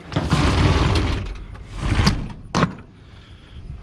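A roll-up door on a heavy wrecker truck rattles as it is pulled along its track, followed by two sharp clunks as it latches, close by with no talking.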